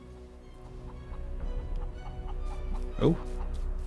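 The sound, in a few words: chicken clucking in video game Naheulbeuk's Dungeon Master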